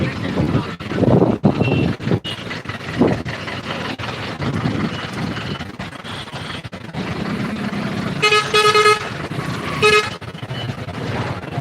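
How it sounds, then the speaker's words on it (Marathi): Busy road traffic rumbles beneath repeated car horn toots, two sharp honks standing out near the end, with faint voices in the background. "पहा ट्रॅफिक जाम आहे"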